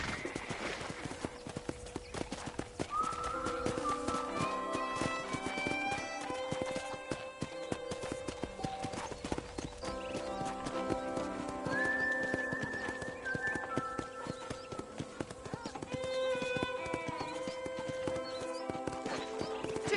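Horse hooves clip-clop steadily in a fast rhythmic gait across the whole stretch in the Red Dead video game, with occasional neighs and whinnies and game music or ambience underneath.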